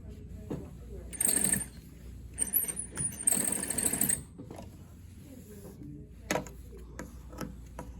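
A sewing machine stitches bias fabric for a gathered sleeve in short whirring runs of rapid needle clatter, stopping and starting several times, with quiet handling noises and a voice in the pauses.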